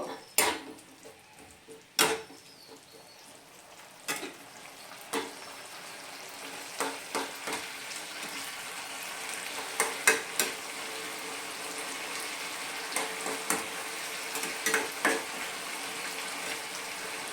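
Papaya chutney with squeezed lime juice being stirred in a pan on a gas flame, giving a soft steady sizzle punctuated by scattered scrapes and clinks of the spoon.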